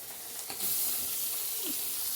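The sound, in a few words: papaya frying in a pan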